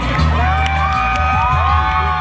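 Festival stage crowd at Ghatal Utsav and children's fair, a dense continuous wash of cheering and shouting voices with whoops, loud and steady throughout.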